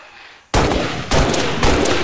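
Gunfire in the video game XCOM 2: three loud, sharp shots about half a second apart, each with a short ringing tail, after a quiet start.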